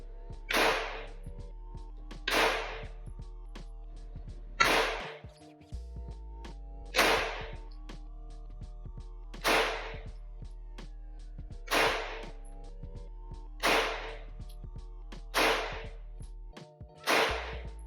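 A Glock 19C pistol is fired at an indoor range target 15 yards away, with about eight sharp, evenly spaced cracks roughly two seconds apart, each ringing briefly over a low steady hum.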